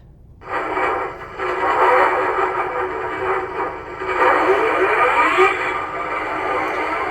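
Small electronic locomotive sounds from a USA Trains model locomotive with a Zimo sound decoder start up and play steadily, a chuffing, rumbling hum with a thin tinny quality, fairly close and moderately loud.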